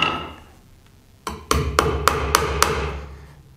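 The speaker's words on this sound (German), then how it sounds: "Und das Ganze ist einfach stumpf zusammengenagelt." Hammer nailing wooden pieces together for a homemade insect hotel: a softer first tap followed by five sharp, close, ringing strikes at a steady rhythm, with no talk.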